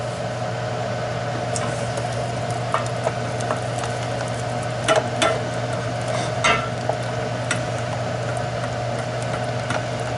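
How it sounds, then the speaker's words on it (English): Lemon beurre blanc sauce being stirred in a pan as cold butter goes in, with faint scattered clicks and scrapes over a constant low hum. "keep stirring that and add more cold butter"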